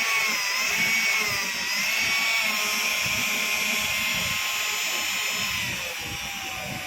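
A 775 DC motor drill runs steadily with a high whine and broad motor hum, its pitch shifting slightly as the chuck works, loud and continuous throughout.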